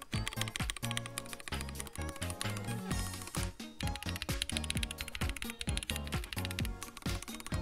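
A custom mechanical keyboard with a higher-pitched, chattery build is typed on rapidly and continuously, giving dense, crisp clacks close to the ear with brief pauses between bursts and no talk.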